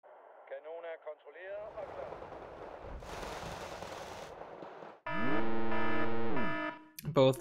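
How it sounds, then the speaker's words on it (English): Gunfire in the Wargame: Red Dragon strategy game as units shoot at commandos: a steady, grainy, distorted rattle of automatic fire that lasts a few seconds. A voice talks before and after it. "let's actually shoot at these commandos"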